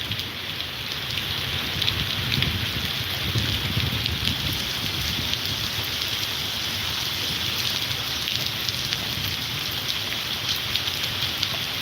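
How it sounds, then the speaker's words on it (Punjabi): Heavy rain pours down in Bassi Pathana, Punjab, in a dense, continuous roar, drops drumming steadily on surfaces close by with no voices. "ਬਹੁਤ ਜ਼ੋਰ ਦੀ ਬਾਰਸ਼ ਹੋ ਰਹੀ ਹੈ"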